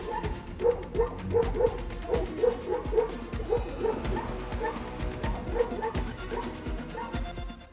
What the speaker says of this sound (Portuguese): Simplesmente se mantendo firme e latindo com toda a força, esse cão corajoso fez o urso pardo selvagem se encolher no mato